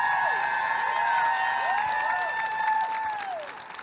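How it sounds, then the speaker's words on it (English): At a barbershop event, an audience claps and cheers in a loud, sustained roar, with high whoops and whistles rising and falling over the clapping before it begins to fade. "So what you do is you clap and you scream like,"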